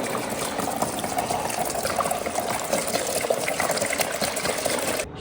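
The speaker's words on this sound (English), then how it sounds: "You just pour it in a mop bucket and mop it on full strength." Concrete sealer is poured into a mop bucket, a steady splashing, trickling stream of liquid that runs continuously for several seconds, close and fairly loud, then cuts off abruptly at the end.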